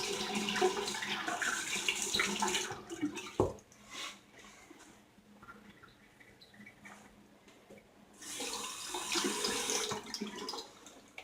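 Tap water runs into a sink in two broad bursts, one at the start and another near the end, as a razor is rinsed during a head shave. Between them there is a short clatter and a quieter stretch.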